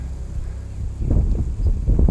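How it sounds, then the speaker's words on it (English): Gusty wind buffeting the microphone outside a church in Cartersville, a low rumbling roar that swells partway through, with no talking. "it's really windy"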